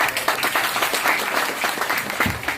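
Audience applause at an Anganwadi centre event, a dense burst of many hands clapping that runs steadily for a couple of seconds, loud and close.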